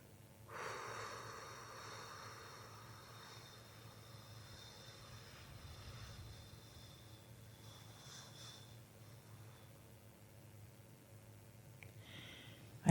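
A long, slow, soft exhale during a guided breathing exercise rises just after the start and fades gradually over several seconds into quiet room hush.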